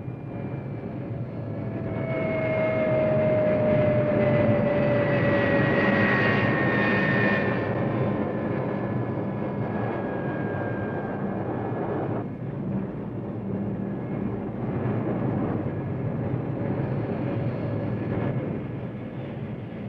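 Military aircraft engines drone steadily at Da Nang air base, a loud sustained roar with slowly shifting whine tones that swell and fade over about twenty seconds, with no voices.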